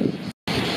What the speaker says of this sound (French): Quand même pas mal de vent